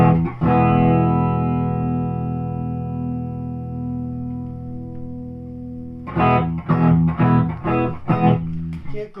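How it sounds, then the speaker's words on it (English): Rickenbacker electric guitar with toaster pickups plays through a Fishman practice amp with no effects: a long ringing chord that decays for several seconds, then a quick run of strummed chord stabs; no talk. "So now we're playing through a Fishman practice amp. No effects."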